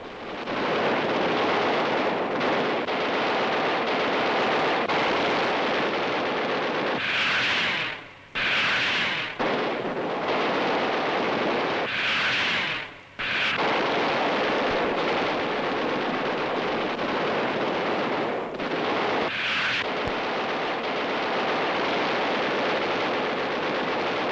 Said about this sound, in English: This is a sample of the terrific barrage now being hurled skyward to meet the enemy's raiders.